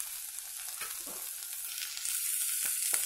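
Chili powder frying in oil in a pan for a dried prawn gongura curry, a close, steady sizzle with a few stirring scrapes, growing louder toward the end.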